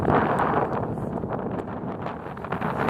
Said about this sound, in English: So as you can hear, the wind is getting crazy.